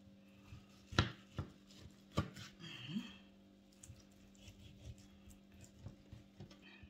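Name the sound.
chopping sheep tail fat with a knife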